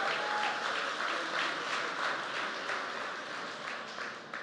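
A political event crowd gives a big round of applause, a steady wash of clapping that tapers slightly toward the end, with no voices over it.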